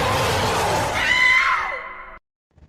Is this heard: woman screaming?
yes